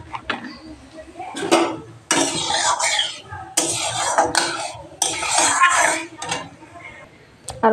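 Dishes, pots and pans being washed in a home kitchen, with clattering bursts of metal utensils and running water in several loud close stretches, separated by brief pauses.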